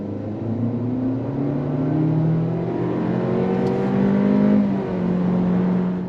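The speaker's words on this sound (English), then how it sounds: "here we are at a dead stop. Give it some throttle." A Honda CR-V hybrid SUV pulls away from a dead stop, its engine note climbing steadily in pitch over several seconds with a brief shift-like dip near the end, heard close and alone with no talking.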